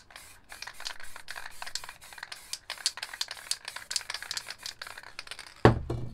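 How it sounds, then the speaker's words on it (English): An MTN 94 spray paint can sprays green paint in a rapid series of short, close hissing bursts, ending with a sharp louder clack. "And we'll just spray some green here."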